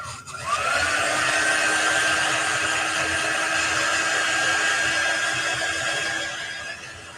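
A craft heat dryer blows steadily over chalk paint on a fall-themed project, a loud continuous whirring whine that starts abruptly and holds even before tapering slightly at the end.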